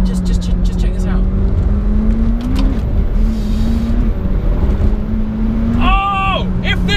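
Engine drone from a McLaren 720S sports car holds a steady tone, then rises in pitch as it accelerates, with wind noise, a loud cabin perspective and a voice near the end.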